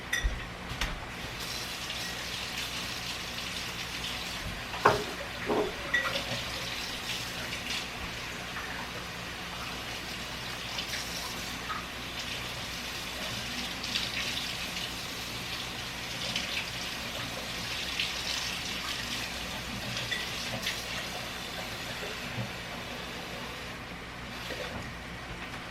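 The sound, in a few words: adding a cup of water while cooking sloppy joes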